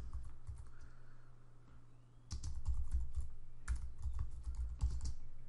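Typing on a computer keyboard, close-up, starting as a faint hum and then rapid, uneven clusters of key clicks for a few seconds, with no talking.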